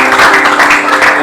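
A congregation claps during a church service, a brief, loud wash of applause filling the hall without any speech over it.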